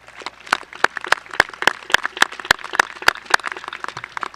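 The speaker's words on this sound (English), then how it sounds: "Please give them a rousing round of applause." Scattered clapping from a crowd at an outdoor football stadium ribbon-cutting ceremony, sharp individual claps in a loose irregular rhythm, fairly thin and open rather than a dense roar.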